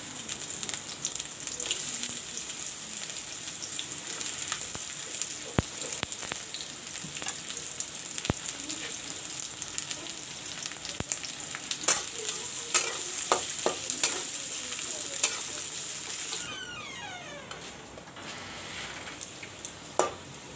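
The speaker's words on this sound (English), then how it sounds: "First I will fry half the onions and take it out." Onions sizzle and fry in hot oil for a mutton curry, a continuous close crackling hiss with occasional stirring clinks and scrapes of a utensil against the pan.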